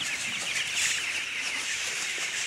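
Ten-day-old broiler chickens in a poultry farm keep up a dense, continuous chorus of high peeping and clucking, many birds at once, loud and steady throughout.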